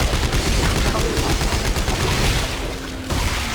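Dense, loud gunfire in Dead Space 3, continuous rapid shots blending into a sustained barrage with no pauses, up close and dominating the mix.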